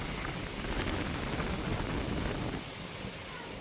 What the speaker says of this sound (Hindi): ठंडी ठंडी हवा चल रही है चारों तरफ